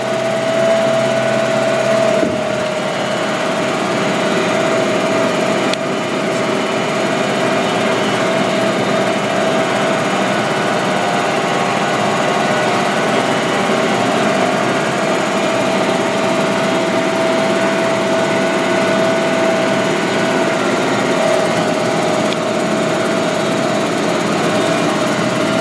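A tractor pulls a drill top-dressing a maize field with fertiliser, its engine running at low revs in a steady, continuous hum throughout, moderately close, with no speech.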